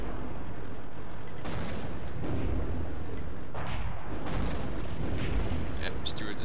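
Artillery fire in a tank video game, several heavy booming blasts spaced irregularly over a constant rumbling background, with a voice talking at times.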